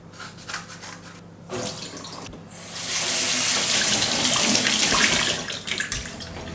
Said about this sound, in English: So give them a quick rinse and then weigh them out.